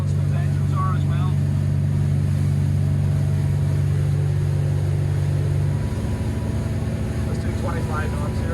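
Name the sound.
twin Volvo Penta D6 400HP boat engines at 3,000 RPM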